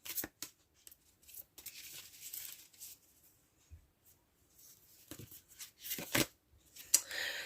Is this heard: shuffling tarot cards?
yes